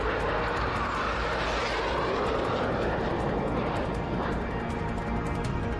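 A Tu-160 bomber flying in a military exercise makes a continuous, broad jet roar that holds steady and loud the whole time, with no voices.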